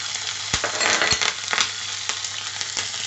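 Cumin seeds and green chillies sizzle in hot oil in a pan, a steady crackling fry with a few sharp pops and spatters, close and fairly loud with no talking.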